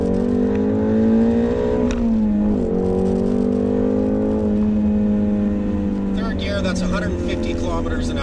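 A 2017 Shelby GT350 accelerating hard in second gear, its engine note a loud, steady drone heard from inside the car that climbs gradually in pitch, with a brief dip around a shift point.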